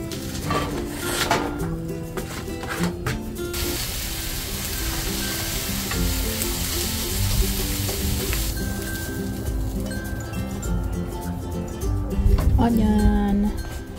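Taco meat frying in a pan gives a steady, loud hiss of sizzling with scraping stirs and clinks of utensils against the pan, close up, and people talk in the background.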